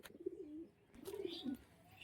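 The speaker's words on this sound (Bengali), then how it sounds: "এটা ম্যাড্রাস পায়রা আছে আর এই মাদিটা আন্দ্রা মাদি আছে" Madrasi pigeons, a pair kept for sale, give soft low cooing calls in two short rolling bursts, faint and close in a quiet space.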